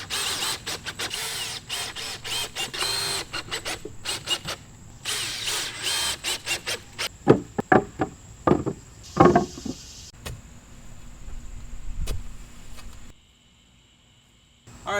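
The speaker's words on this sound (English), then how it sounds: "Now I'm going to screw them off with 2-inch deck screws." Two-inch deck screws being driven into wooden stair stringers: bursts of a power driver whirring, then a run of knocks and clicks, close and moderately loud, trailing off into near silence with no talk.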